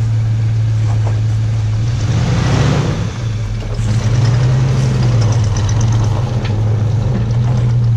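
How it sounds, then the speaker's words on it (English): A 305 V8 engine from a 1987 Suburban idles steadily and close in a 1974 GMC Jimmy, a low even rumble with slight shifts in pitch, no voices. "We took actually the engine out of an 87 Suburban, a 305"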